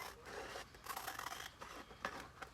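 Scissors cut apart a paper stencil in quiet, close snips and rubbing scrapes, with a few sharper cuts near the end and no talking.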